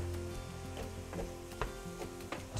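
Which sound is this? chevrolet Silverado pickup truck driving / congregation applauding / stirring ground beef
stirring ground beef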